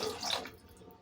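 Water poured into a pot of taro and egg tamarind curry, a brief close splash and rush for about half a second, then fading into a faint trickle and quiet.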